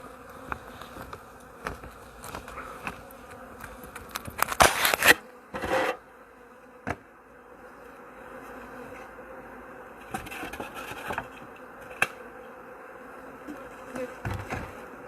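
Steady buzzing of many honey bees at a hive holding about six and a half frames of bees, close and continuous, broken by a few sharp clicks and scraping knocks.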